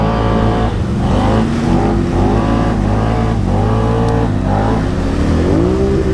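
A Can-Am Outlander 1000 ATV engine revs hard and loud during a wheelie, with repeated rising and falling throttle surges close by.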